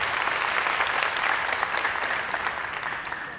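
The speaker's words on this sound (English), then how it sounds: "So first, maybe clap for yourselves." Contestants at an English speaking competition clap for themselves, a full, even burst of applause from a group that fades slightly toward the end, with no voices over it.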